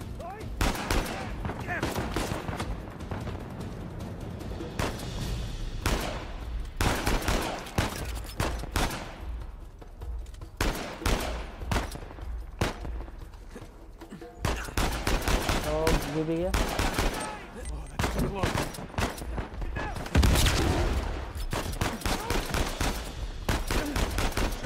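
Enemy gunfire in Uncharted 4, with dense bursts of automatic fire and single gunshots in rapid, irregular volleys that stay loud and close throughout, while a voice talks intermittently between the shots.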